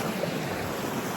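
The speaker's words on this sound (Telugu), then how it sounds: "ఇది వాటర్ ఫాల్స్." A waterfall in Kerala, on the Sabarimala pilgrimage route, roars with a steady, dense rush of falling water that fills the whole moment without a break.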